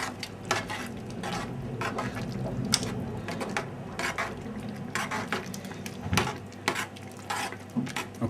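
A spoon stirs chopped parsley into simmering spaghetti sauce in a pot, with repeated scraping and clinking strokes against the metal and a faint sizzle beneath, close and moderately quiet.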